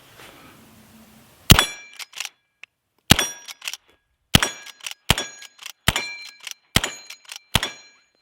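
A Cimarron 1860 Henry reproduction lever-action rifle fires at a steel plate 30 yards away: after a quiet start come six sharp cracks, each with a bright ringing metallic ping from the struck plate, spaced about a second apart.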